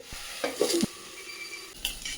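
Okra frying in a pan with onion and spices, a low continuous sizzle with a few close stirring scrapes and light utensil knocks, brief and without voices.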